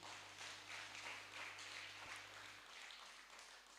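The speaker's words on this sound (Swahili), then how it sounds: "Nataka mpigie praise and worship makofi mazuri." A church congregation at a Sunday service in Kisii applauds the praise and worship team, a steady wash of clapping held at an even level throughout.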